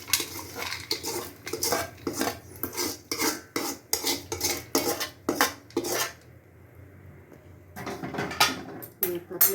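Roasted pirandai is spooned out of a pan onto a plate to cool, with a run of close, sharp metal scrapes and taps in a quick, uneven rhythm, a brief lull, then more scraping.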